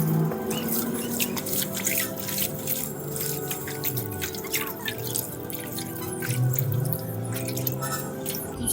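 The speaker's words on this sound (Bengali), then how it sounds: "এবার আমি ধুই নেব সুন্দর করে।" Taro leaves are washed by hand in water in a village kitchen, with continuous splashing, dripping and trickling close by.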